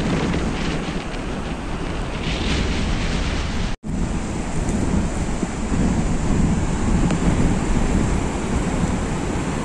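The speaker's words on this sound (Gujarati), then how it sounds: "એને કારણે મોજાઓ એટલા ફૂટે છે ને" Sea waves crash and roar against the shore at Mangrol harbour at full high tide during Cyclone Biparjoy, a loud, continuous wash of surf and wind with one momentary dropout.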